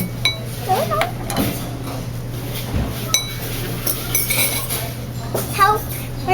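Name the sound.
spoon and dishes clinking at a restaurant table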